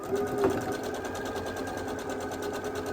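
A sewing machine runs steadily, stitching a quarter-inch seam on a quilt block, a close, even mechanical whir that holds for the whole few seconds.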